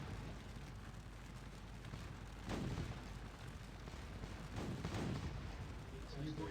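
Artillery bombardment in the Napoleonic battle game Scourge of War, with two dull, distant booming volleys rolling over a steady battlefield rumble while voices talk.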